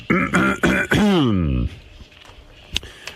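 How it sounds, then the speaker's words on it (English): A man clears his throat several times in quick rasping bursts, ending with a descending groan, then quiet room noise. "Have to clear my throat."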